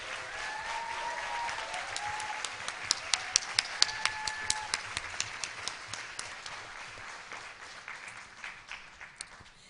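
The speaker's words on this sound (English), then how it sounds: "So please, especially give them a big applause for doing such a good job." Conference audience applauding, steady clapping from a large hall with sharper individual claps standing out near the front, fading gradually toward the end.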